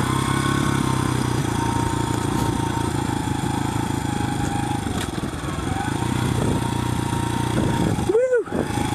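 A Honda CRF100F dirt bike engine runs steadily near the rider outdoors by a coastline, a loud continuous buzzing drone that holds for several seconds, with a brief dip near the end.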